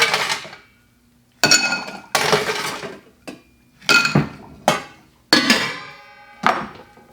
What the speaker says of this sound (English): Get some ice.